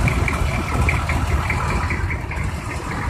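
A 1985 M1009 CUCV diesel truck idles steadily nearby, a low, even rumble with a faint higher whine running through it, heard alone without talk.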